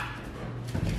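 Pet dogs indoors give a brief, fairly quiet bark or whimper, a short yelp rising near the end of about a second of sound, with no talking.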